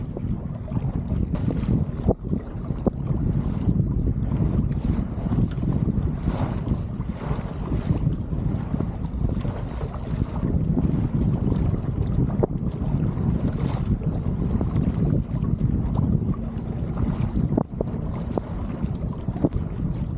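A sailboat with custom sails heels close-hauled across a lake, its hull rushing through water under steady, loud wind buffeting the microphone. The broadband roar continues without pause, and no one speaks.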